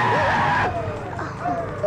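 A short tire skid from hard braking by a motorbike on a paved road, loud and close at first, then fading into rumbling vehicle noise with a voice speaking over it.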